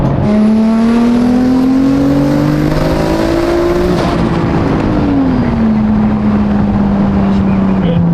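A BMW M4 with a built 900-horsepower engine and lighter flywheel revs hard, its loud, sustained engine note climbing in pitch, then dropping and settling, heard close from inside the car.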